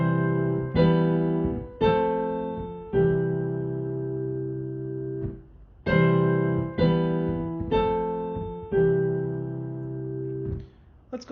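A short chord progression ending in a plagal cadence, played as a series of sustained instrumental chords with brief gaps between them, moderately loud and close, with no talking.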